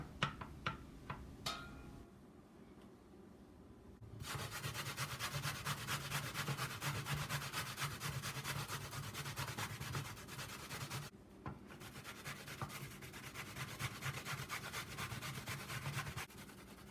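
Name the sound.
grating green plantain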